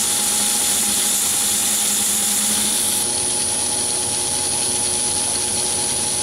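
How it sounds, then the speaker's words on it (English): CNC lathe cutting metal with a turning tool, a loud continuous machining whine with a steady high tone and motor hum that shifts slightly partway through, with no voices. "The same tool can be used for back turning, so I can plunge straight into the diameter"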